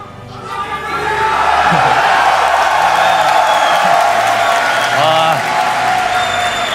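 Applause and cheering from a large esports crowd at a StarCraft II grand final in Montreal, a sustained roar that swells early and holds loud, with brief voices and whoops rising above it.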